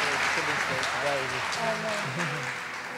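Clapping from a gathered audience at a religious talk runs steadily beneath a speaking voice for a few seconds, moderately loud and continuous.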